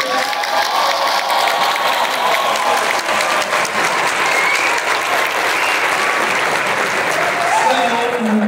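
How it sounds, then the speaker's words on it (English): An audience at a dance competition applauds the dancers with loud, continuous clapping mixed with cheers and shouts. The sound holds steady for several seconds. "Can we just do a really quick round of applause for all of the dancers?"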